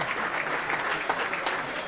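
Spectators clap as a player leaves the court during a substitution at a French NM2 basketball match between La Pontoise and Prissé Mâcon, a short burst of steady crowd applause with a few sharper individual claps.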